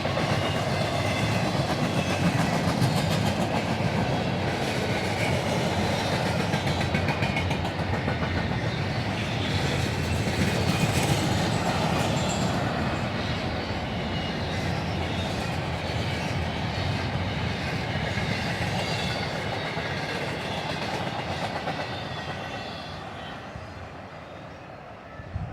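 Short northbound intermodal freight train carrying piggyback trailers rolls past steadily and loud, a continuous rumble with rail clickety-clack lasting the full length, easing slightly near the end.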